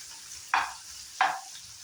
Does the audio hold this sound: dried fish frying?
yes